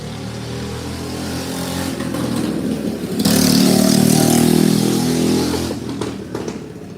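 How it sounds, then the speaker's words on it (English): A newly built motorcycle engine drones nearby, then its pitch and loudness jump as it revs up and holds, easing off toward the end; no voices. "Sorry, it's really loud. A lot of people ride their little motorcycles around here."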